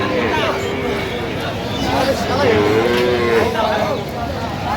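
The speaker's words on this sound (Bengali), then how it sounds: "বেশ সুন্দর গাভী বাছুর আমরা দেখছিলাম এখানে" A cow with its calf at a cattle market moos loudly and drawn-out close by, with more lowing from cattle around it while people talk in the background.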